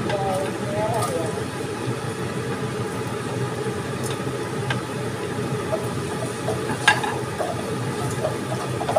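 Garlic and shallot seasoning frying in a pan makes a steady sizzle with occasional stirring clinks, while a person talks over it.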